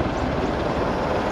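A Mi-24 attack helicopter runs with a dense, steady rotor and engine roar, loud and close, without pause or speech.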